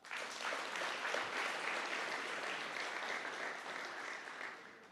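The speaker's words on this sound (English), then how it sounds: "Give that a hand clap." An audience at a performing arts center ribbon cutting ceremony bursts into dense, sustained applause, many hands clapping together at an even level for several seconds before fading slightly at the end.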